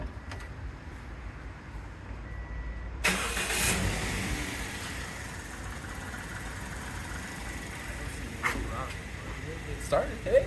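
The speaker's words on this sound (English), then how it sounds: "we're gonna try to start the car for the first time" A Toyota Yaris, freshly repaired after clutch work, is started for the first time: a quiet lead-in, then a sudden engine catch that settles into a steady mid-pitched idle, with people talking nearby.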